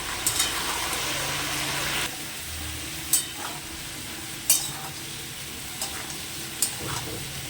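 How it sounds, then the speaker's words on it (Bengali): Potatoes fry in oil with dried red chillies, sizzling loudly at first, then settling to a steady crackle punctuated by several sharp scrapes and knocks of a spatula stirring them. "শুকনো লঙ্কা ফোড়ন দিয়ে আগে আলুটাকে ভালো করে ভেজে নিচ্ছি"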